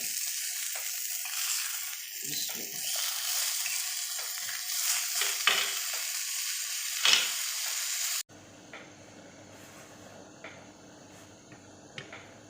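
Chicken chapli kebabs sizzle steadily as they heat on both sides in a pan, a dense close frying hiss with a few clicks and scrapes, dropping to a quieter hiss near the end.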